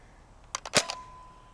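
A Nerf Dart Tag Sharpshot blaster with the blue trigger variant fires a dart, a quick cluster of sharp clicks and a snap lasting well under half a second, fairly quiet, with a faint tone lingering after.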